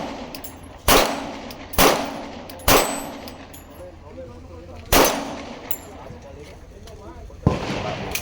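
Pistol shots at a shooting range, five sharp loud cracks spaced unevenly over several seconds, each with a short decaying tail, with faint background noise between them.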